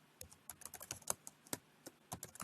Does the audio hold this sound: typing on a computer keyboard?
yes